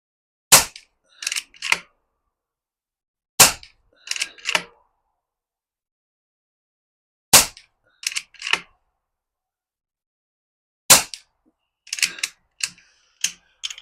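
Airgun shots fired using Darc 3D-printed magazines: four sharp, close cracks spaced several seconds apart, each followed by a quick cluster of mechanical clicks, in otherwise near silence.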